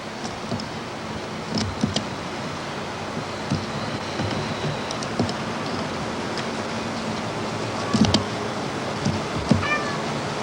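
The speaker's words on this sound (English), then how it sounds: "Kitty, come here. Come here, kitty." A cat gives a faint, brief meow near the end, set against a steady wash of outdoor wind-like noise with no one speaking.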